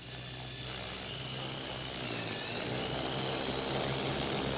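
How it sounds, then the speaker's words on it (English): Steady high-pitched whine of a small consumer drone's electric rotors buzzing continuously, growing slightly louder, with a bright tonal hum and no voices. "So this is a small consumer drone."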